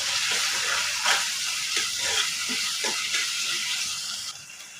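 Tomato pieces sizzling in a frying pan, a steady close crackle with soft stirring scrapes and brief bursts.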